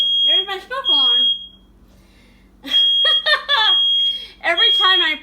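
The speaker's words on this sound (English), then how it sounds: "there's my smoke alarm" A kitchen smoke alarm shrills in repeated piercing bursts after an oven was preheated to 425, close and loud, with laughter and a talking voice mixed in between the beeps.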